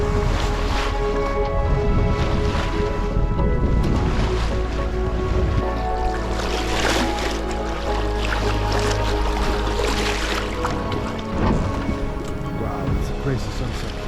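A sailboat under way on the North Sea, with a steady wash of water and wind noise around the hull and occasional splashes, fairly close and continuous, with a voice talking over it.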